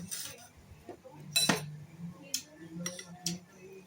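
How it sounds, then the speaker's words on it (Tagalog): Metal spoon scraping and clinking against a dish of home-cooked fried tuna, several sharp light clinks spaced irregularly over quiet background murmur. "May sumasandok sa ulam ko guys."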